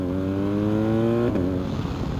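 A BMW R 1250 GS motorcycle accelerates hard, its engine note climbing steadily through the revs before a brief dip at a gear change, then pulling on, close and loud with no talk.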